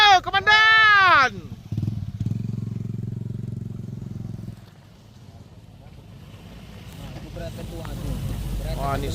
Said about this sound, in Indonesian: Wah, ini sepeda motor bosku.